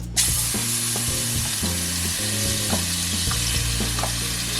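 Butter melts in a hot pan to start a roux for cream of pumpkin soup, giving a steady, close sizzle with light stirring scrapes, under continuous background music.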